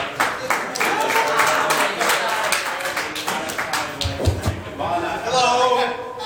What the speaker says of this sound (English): Let's put our hands together for John.